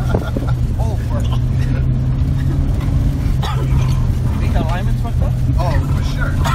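A cheap all-wheel-drive Honda CR-V driving off-road through ruts, its engine droning steadily and loud throughout while people talk over it.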